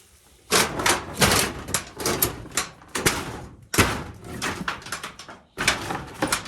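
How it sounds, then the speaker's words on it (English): A sticking door that only partly opens is worked back and forth, giving repeated scraping, rattling and thudding bangs in irregular bursts, fairly close and loud. "Door that kind of opens and kind of doesn't open."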